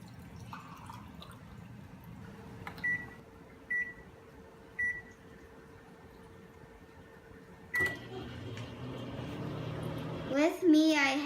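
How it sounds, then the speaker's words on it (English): A microwave oven hums steadily while heating water in a mug, a few short beeps ring out, followed by a door clunk and a person starting to talk. "put the water in the mug and heat it up in the microwave for 45 seconds"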